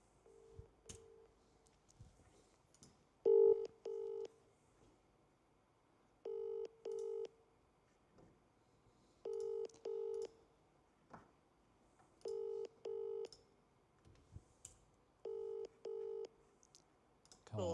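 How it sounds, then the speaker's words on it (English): Telephone ringing tone on an outgoing call, paired double pulses repeating at a regular interval of about three seconds, heard faintly over a quiet line with occasional clicks. "Oh, it's ringing this time."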